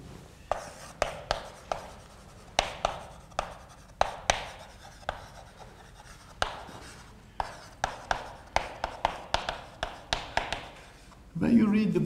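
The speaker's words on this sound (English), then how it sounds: "let me write the title" A lecturer writes on a classroom board during a quantum mechanics lecture, producing a long run of quick, crisp chalk taps and strokes in irregular bursts, close and clear, with a short noisy scrape near the end.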